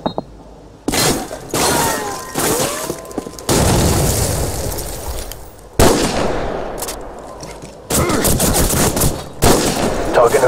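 Call of Duty 4 gunfire bursting in rapid volleys of rifle and machine-gun shots with sharp booms, loud and close, separated by brief quieter gaps, with occasional voices in the mix.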